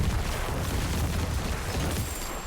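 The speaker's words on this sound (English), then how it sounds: "I'm going to Corpse Explode here" Necromancer Corpse Explode blasts in an action RPG, a dense continuous rumble of booming explosions with heavy low-end roar, loud and sustained throughout without pause.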